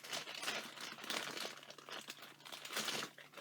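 Plastic packaging for a beauty product crinkles and crackles as it is pulled open by hand, a steady close rustle with a few sharper crunches across a few seconds, no voices.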